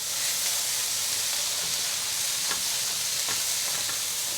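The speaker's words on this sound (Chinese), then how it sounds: "快速翻炒" Tomatoes and mushrooms stir-fried quickly in an oiled wok, a constant hissing sizzle with faint scrapes of the spatula now and then, close and steady with no talk.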